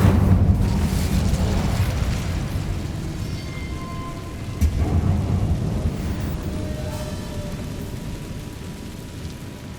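The Incendio fire spell being cast in a Harry Potter video game: a loud, rumbling fiery roar that stays heavy for several seconds, with a sharp burst midway through, then fades slowly.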